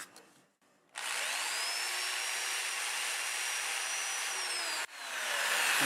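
Sandpaper pressed against a spinning Siberian elm crotch bowl on a wood lathe gives a steady, loud, close whooshing rasp for about four seconds, ending abruptly, then the lathe's hum swelling again.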